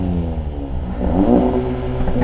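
A CUPRA car engine at Slovakiaring revs through an Akrapovič exhaust, a low steady drone rising into a louder throaty rev partway through, heard close with no talking.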